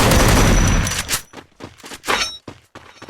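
Gunfire in a shooting video game: a dense burst of rapid shots up front, then several sharp separate shots and impacts, loud and close, with no talk over it.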